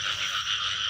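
Field frogs croak in a dense, steady chorus at night, a continuous buzzing trill filling the whole moment with no pauses.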